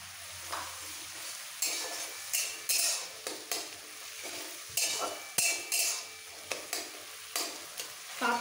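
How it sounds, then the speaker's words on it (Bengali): Spinach and grated ginger fry in hot oil while a utensil stirs them, scraping the pan in short, regular strokes over a constant crackling sizzle, close and clear. "পালং শাকটা একটু তেলের মধ্যে নাড়াচাড়া করে দিয়ে দেবো"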